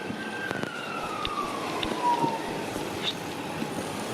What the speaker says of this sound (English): I'm hearing some sirens.